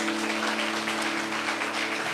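A church congregation applauds the Lord during a worship service, steady clapping with a sustained organ or keyboard chord held beneath it.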